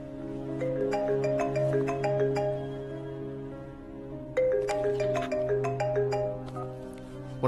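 A phone plays a melodic ringtone in two bursts of bright, tinkling notes over a low sustained tone, with a short pause between them and no talk.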